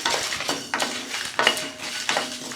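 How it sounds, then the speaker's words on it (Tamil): Pepper, cumin and dried chillies are dry roasted in a pan without oil, with several close clinks and scrapes as the spices are stirred and tossed at an uneven pace. "இது எல்லாத்தையுமே நம்ம எண்ணெய் விடாமல் ட்ரை ரோஸ்ட் பண்ணிக்கலாம்."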